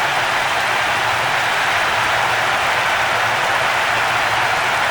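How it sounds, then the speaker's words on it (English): Dense, steady roar of a capacity stadium crowd cheering a goal in Pro Evolution Soccer 6 on PS2, a continuous hissing wash of noise that stays loud and even throughout, with no talk. "The capacity crowd are enjoying the goal celebration."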